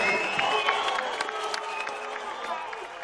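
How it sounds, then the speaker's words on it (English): Applause and cheering from the crowd at a boxing press conference, a steady wash of clapping with scattered claps standing out, fading slightly toward the end. "I would like everyone to give Turkey Al-Shikh a hand and a round of applause"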